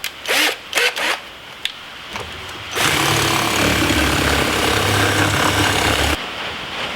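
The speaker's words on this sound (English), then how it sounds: "I'm going to take just a regular drill bit," A regular drill bit bores into plastic to widen a hole, a steady loud whirring grind lasting a few seconds, preceded by short bursts of handling and trigger noise.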